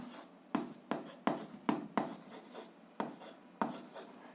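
Pen writing on paper during an algebra exercise, a faint, close series of sharp taps and short scratching strokes at an uneven pace.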